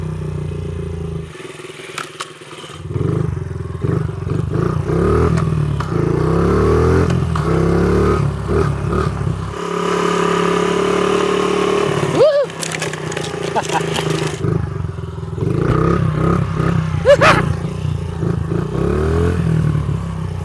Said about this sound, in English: let's go for a quick test ride now that it's a little bit warmer